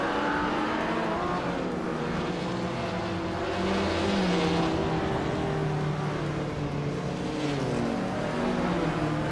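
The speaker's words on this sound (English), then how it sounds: "R40 is driving a Jaguar D-Type from 1956, a classic with sleek lines" Racing cars, among them a 1956 Jaguar D-Type, roar past in a steady, dense engine drone with shifting pitch that holds near and loud throughout the race.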